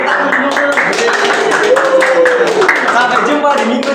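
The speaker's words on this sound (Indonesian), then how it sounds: "Kita beri tepuk tangan dulu." Clapping from a group at an online Sunday school gathering, steady scattered claps running throughout with voices talking over it.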